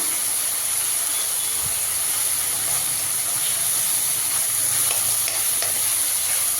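Mint rice is stirred and fried in plenty of oil in a pan, a continuous loud sizzle and hiss with occasional scraping stirs, close and steady throughout, no voices.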